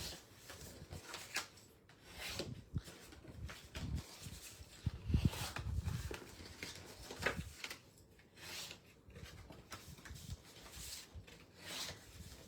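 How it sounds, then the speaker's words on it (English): The sides of a paper treat box are burnished by hand, producing close, soft, dry rubbing and scraping strokes in uneven bursts, louder around the middle, with no talking. "So I'm going to burnish all the sides."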